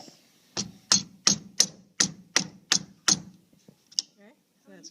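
About eight sharp mallet strikes on a chisel cutting into wood for a dovetail joint, evenly spaced and close, followed by a few faint taps and a brief voice.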